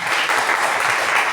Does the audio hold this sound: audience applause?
yes